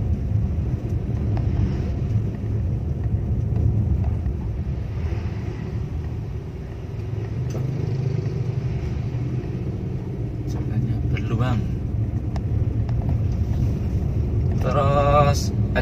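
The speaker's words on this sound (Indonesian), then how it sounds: "Memanfaatkan engine brake." A car descending a steep downhill road in a low gear using engine braking, a steady loud engine and road rumble with wind noise throughout; a voice speaks briefly over it.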